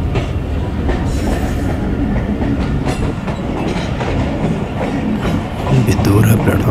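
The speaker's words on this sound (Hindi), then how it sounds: "मेन लाइन छोड़ के लूप लाइन पे आ गई है ट्रेन" The Mehar Express rumbles steadily as it crosses from the main line onto a loop line, with constant wheel clatter and track noise heard from on board. It stays loud throughout, with faint voices in the background.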